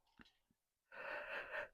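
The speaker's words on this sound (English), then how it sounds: "yawning away" Person yawning indoors while painting, a couple of faint breaths followed by a long, breathy exhaled yawn lasting nearly a second, close and soft.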